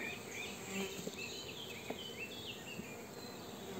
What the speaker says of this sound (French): Donc là, j'entends un bourdonnement un peu.